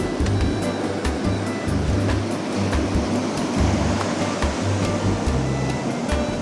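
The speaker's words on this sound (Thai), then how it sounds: "และในที่สุดเราก็ได้โดนทะเลแล้วครับทริปนี้" Sea waves wash steadily onto an empty beach on a rainy day, a loud continuous broadband surf roar with a low rumbling undertone throughout, no voices.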